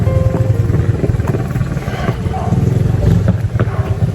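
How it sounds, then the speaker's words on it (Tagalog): Motorcycle engine idling or running at an outdoor rural spot, a steady low rumbling drone with rhythmic chugging pulses throughout, mixed with faint clatter and background voices. "Tingnan natin yung motor doon."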